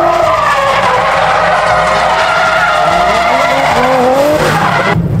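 Nissan Skyline R34 drifting at a festival in Japan, tires skidding and squealing loudly and continuously with engine roar, near and sustained throughout.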